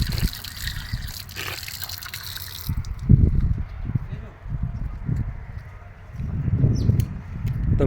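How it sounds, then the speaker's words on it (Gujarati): Water splashes from a tap at a stand beside a temple in a field, a rushing gush that stops after a few seconds, followed by bursts of nearby talk. "જો આ રહી પાણીની ચકલી. જો પાણી આવે જ છે."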